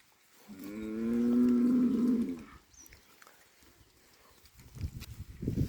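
A single long, tonal moo from a calf of three or four months, fairly close and clear, followed by quieter rustling and shuffling movement.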